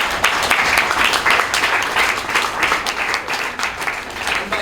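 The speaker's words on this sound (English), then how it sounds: "Please let's give him a round of applause." A round of applause at a launch event after a piano performance: many hands clap together in a full, even wash of sound that stays steady from start to finish.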